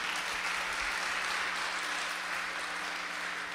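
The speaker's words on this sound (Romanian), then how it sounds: "să aplauze și pentru ei" Steady applause fills a church hall after a Christmas concert, a dense even wash of clapping from a seated audience that holds at a constant level throughout, with a faint low hum beneath.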